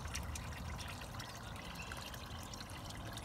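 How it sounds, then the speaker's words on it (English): Submersible pump lowered into the water of a new garden koi pond, with a steady close trickle and pour of water throughout, no voices. "There's the pump going in here."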